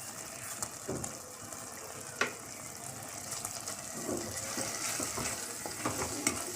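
Mushroom biryani masala being stirred in a pan, with soft scraping and gentle sizzling, quiet and close, and a few sharper knocks from the spoon.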